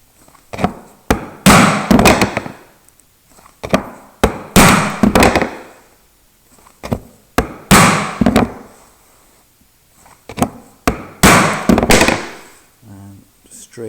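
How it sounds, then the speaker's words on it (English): Chisel chopping and paring out a mortise in wood for a footstool, held two-handed: repeated sharp percussive blows in bursts, loud and close, with pauses between groups. "2 hands on the chisel. And we clear out the mortise in that position there."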